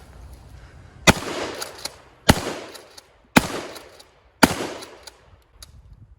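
An Ithaca 37 pump-action shotgun fires four loud, sharp blasts outdoors at roughly one-second intervals, each with a short ringing decay. Softer clacks of the pump action sit between the shots.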